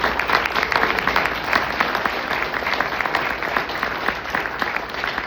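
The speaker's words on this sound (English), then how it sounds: "give them a round of applause" Campaign-event crowd applauding a group of men, steady dense clapping that stays loud and even for several seconds with no speech over it.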